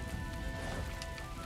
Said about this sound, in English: Man, I love rain.